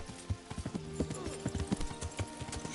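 Horse hooves clip-clop in the video game Kingdom Come: Deliverance, a steady near rhythm of hoof strikes with faint tonal game ambience underneath.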